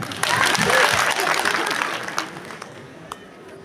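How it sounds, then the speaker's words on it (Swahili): Audience at a community security and peace meeting on Mount Elgon applauding the women, a dense burst of clapping that swells loud then gradually thins out. "Tuwapigie mama makofi."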